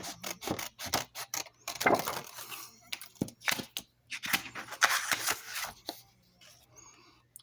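Scissors cut card stock diagonally while making a tuxedo fold card, a series of close, crisp snips and paper rustles in irregular bursts with brief pauses.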